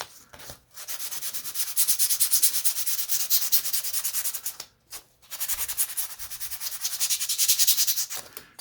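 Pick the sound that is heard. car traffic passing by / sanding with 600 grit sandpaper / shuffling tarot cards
sanding with 600 grit sandpaper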